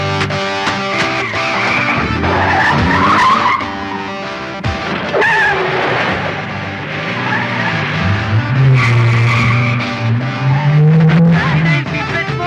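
A car in a Filipino romantic comedy film scene speeds off with loud tire squeals and skidding, engine revving hard and rising in pitch, with brief shouted voices in between.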